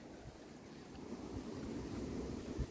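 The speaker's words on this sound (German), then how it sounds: "Ja, es ist windig." Steady wind rushes and buffets against the microphone, a low rumbling roar that swells slightly toward the end, with no voices.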